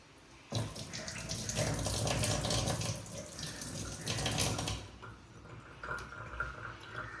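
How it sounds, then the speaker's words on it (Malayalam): A tap gushes strongly as hands are rinsed under the running water, then the flow eases and splashes more softly near the end. "കൈ വാഷ് ചെയ്യേ"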